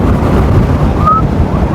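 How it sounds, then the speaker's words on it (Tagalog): Strong wind buffets the microphone during a national junior road cycling race, a loud continuous low roar and rumble filling the short clip, with a brief faint tone in the middle. "Malakas yung hangin."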